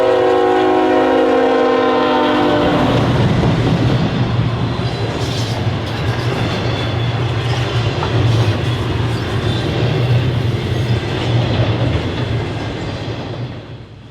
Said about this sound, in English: With a Tier 4 GEVO leading and a Dash 9 trailing, 25N, the daily Columbus, Ohio to Corwith, Illinois intermodal train